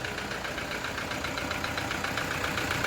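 A Toyota Innova engine idles with a knocking fault, a steady dense rattling tick running continuously and loud at close range, with no speech.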